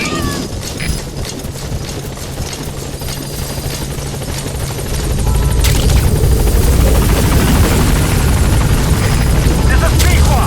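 A B-Quad helicopter from Metal Gear Solid V arrives at a landing zone. Its steady rotor roar rises and grows louder halfway through, with voices and faint chirpy sounds underneath.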